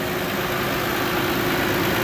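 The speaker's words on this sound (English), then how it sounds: "sorry about the noise, we're just revving it up." Nissan Patrol with a TD42 diesel engine, being checked for overheating, runs loud and close with a steady, rough, low diesel drone throughout and no voices.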